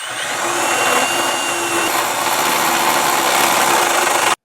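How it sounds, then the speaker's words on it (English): Power tool with a burr bit grinding out a hole in the steel of a Class III trailer hitch, a loud, continuous high whine that runs for about four seconds and then cuts off abruptly. "I'll be using a burr bit to stretch that hole out"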